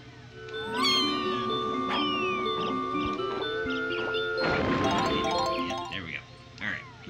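Cartoonish cat meows from the Donkey Kong 64 video game, several rising, wailing cries over chirpy game effects and a burst of busy in-game noise, with players talking.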